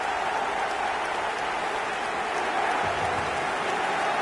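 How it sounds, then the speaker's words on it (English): A stadium crowd in the eFootball video game claps after a goal, a dense, steady roar of applause filling the whole stretch at full loudness. "Even some of the opposing fans are clapping that."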